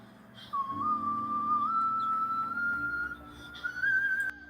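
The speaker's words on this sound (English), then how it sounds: "she still hits all of her high notes, that whistle register" A woman singer at City Winery Atlanta holds a thin, piercing whistle-register note that slowly glides upward, sustained for several seconds over a low band or crowd backing.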